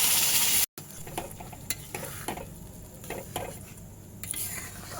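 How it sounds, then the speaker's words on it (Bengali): Dal and vegetables poured into a pan of sizzling fried spices with turmeric and grated ginger, then stirred: a steady frying hiss with repeated scraping spoon strokes, close and fairly loud. "আমি এই ডাল সবজি একসাথে এর মধ্যে ঢেলে দেব"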